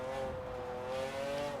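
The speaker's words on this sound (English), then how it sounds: "This sounds really cool. Because this is definitely the McLaren F1 engine in this thing." A McLaren 600LT engine revs in Forza Horizon 4 as a steady, high-pitched sustained drone that climbs slightly in pitch, loud and close, heard alone with no talk.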